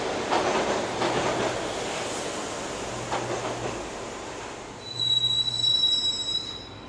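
Subway train in the Max Payne Mobile video game riding along the rails, a steady rumbling roar with a high, drawn-out wheel squeal rising near the end, heard alone and fairly loud.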